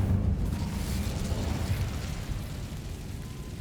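An Incendio fire spell is cast in Hogwarts Legacy, a sustained, loud roaring whoosh of flame with a rumbling low end that holds steady and slowly eases off.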